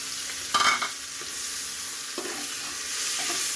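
Vegetables sizzle in hot mustard oil while being stirred, a steady close frying hiss broken by a few louder scraping stirs near the start and middle.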